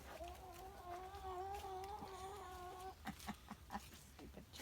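A nearby chicken makes a drawn-out vocal call, then a run of short, quick clucks. It is faint against a quiet outdoor background at a sawmill work site.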